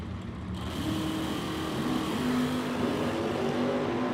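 Super Pro drag racing cars launching off the line at a Summit Racing Equipment $75K Challenge event, a loud steady engine roar that rises and holds with droning tones, following a brief quieter moment at the start.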